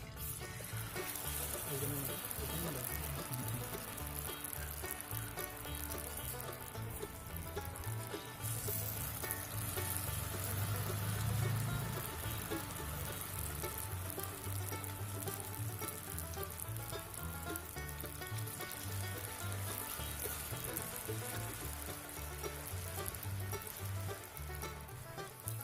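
Bajji, vegetables in batter, frying in hot oil in a pan, with a steady dense crackling sizzle that holds for the whole stretch, close and continuous, no talk over it.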